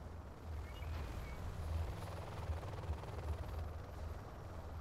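Helicopter-like aircraft rotor and engine drone in a tank combat video game, a steady loud rumble holding throughout with slight swells, no talking.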